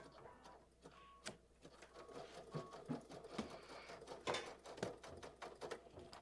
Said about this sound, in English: Did you hear that? That the thread was breaking because I messed up here. It got caught.